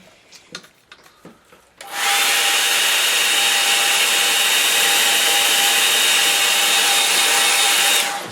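After a few light taps, a handheld dryer blows on a watercolour painting of distant hills, a loud, steady whirring roar with a constant whine that runs unbroken for about six seconds before cutting off.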